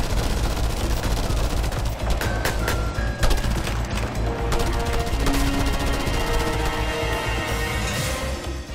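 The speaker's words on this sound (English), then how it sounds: "pull out your guns and start firing at them" Gunfire from the video game Just Cause 2 keeps up a dense, continuous fusillade of rapid machine-gun bursts and shots, loud and close, with scattered game tones and effects layered over the barrage.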